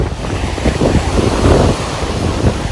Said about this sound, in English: Here's the beach side. See? Water's so clear.